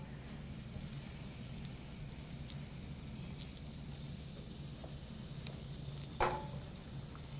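Food sizzling in a really hot skillet, a steady close hiss and crackle throughout, with a brief sharp clink near the end.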